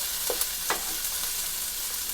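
A country breakfast fries in an oiled skillet, giving a continuous crackling sizzle with a few light spatula scrapes as the food is moved around the pan.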